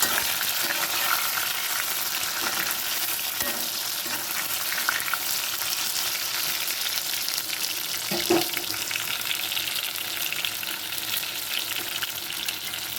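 White brinjal sautéing in oil, a dense continuous sizzle and hiss with an occasional faint stir or clink, steady and moderately loud from start to finish.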